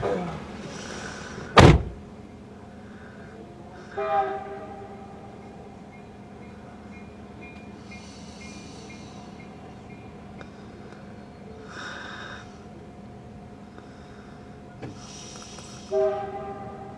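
A CN local freight train rolls past in Kimball with a steady low rumble, its horn sounding several spaced blasts from a moderate distance, and a sharp knock near the start.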